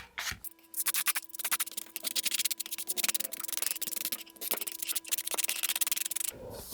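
Close, steady rubbing and scraping of sandpaper on a model rocket fin pod turned on a sanding tee, in quick repeated strokes lasting several seconds before stopping.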